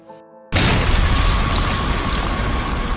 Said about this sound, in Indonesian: terjadilah ledakan pada sebuah mobil